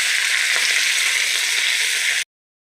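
Cauliflower pieces frying in a home kitchen pan make a dense, even hiss, loud and close, which stops abruptly after about two seconds, with no voices.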